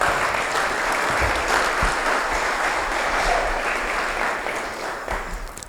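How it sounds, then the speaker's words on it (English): Sustained audience applause at an Oklahoma lake development summit, dense and loud clapping from a conference crowd lasting several seconds without any speech over it. "So I'd really like to give those folks a round of applause."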